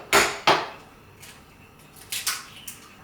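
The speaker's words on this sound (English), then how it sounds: "first we're gonna crack in our eggs in this bowl." Eggs cracked into a bowl for egg fried rice: two sharp, close taps around the half-second mark, then a few softer clicks and wet drops, with no talking.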